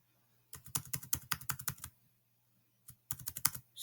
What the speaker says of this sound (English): you're going to actually want to type in these commands as exactly the way that I typed them.